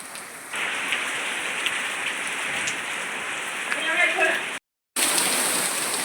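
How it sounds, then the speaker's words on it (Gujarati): Steady rain patters on a surface, a dense continuous hiss that briefly cuts out near the end, then returns. "આજ પડે છે વરસાદ"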